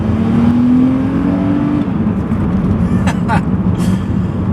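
A Volvo engine revs hard under full throttle, a rising drone that climbs steadily before shifting, loud and close throughout.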